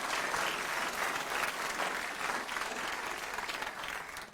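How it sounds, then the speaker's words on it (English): Audience applause at an ethical investment awards event, a steady dense wash of clapping from a large crowd filling the room at moderate level, with brief cheers and no clear talk. "big round of applause for Te Reva!"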